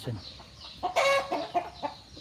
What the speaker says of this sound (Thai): ตรงนี้ไก่กำลังทะเลาะกันพป่น้อง